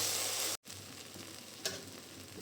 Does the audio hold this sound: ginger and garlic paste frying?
yes